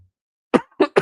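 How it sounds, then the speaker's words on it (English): Three quick, loud coughs close up: a harsh first bark, then two shorter hacks in rapid succession, with nothing else in the background. "I apologize. Got a cough."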